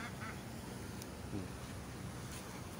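Scattered honking calls from geese and quacking from ducks over a steady, breezy outdoor background with distant water noise.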